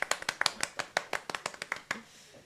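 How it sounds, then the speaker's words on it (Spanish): Applause effect fired from a live-stream soundboard: a short burst of roughly a dozen sharp claps in quick succession, loud and close, fading out after about two seconds. "Tirame unos aplausos de la botonera."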